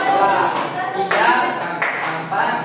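Third-grade classroom clapping game: children clap in short rhythmic bursts while a teacher's voice talks and counts over them, fairly close and loud.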